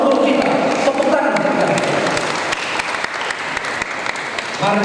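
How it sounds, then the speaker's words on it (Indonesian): A crowd at a community gathering applauds a donation pledge, continuous clapping with scattered sharp claps and some voices mixed in, loud and close. "Tepuk tangan."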